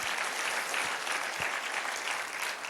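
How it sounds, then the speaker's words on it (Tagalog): A church congregation at an Easter service claps loudly, a dense, even wash of many hands that carries on steadily throughout. "pumalakpak na malakas yung naniniwalang magkakaroon ng miracle"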